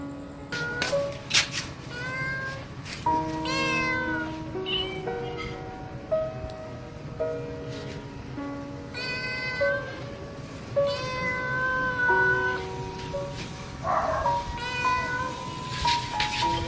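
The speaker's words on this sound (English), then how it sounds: "Oh, he's meowing. The boy is meowing." A homeless mother cat's kittens meow repeatedly in close, clear calls, a steady run of rising and falling mews spread over the whole stretch with occasional household clatter.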